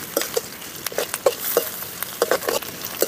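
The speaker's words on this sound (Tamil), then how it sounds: "இந்த வெங்காயத்தை நல்லா வதக்கணும்." Onions sautéing in a pan for a papaya fry side dish, with a soft steady sizzle and repeated light stirring taps and scrapes of a utensil recurring every half second or so, close by.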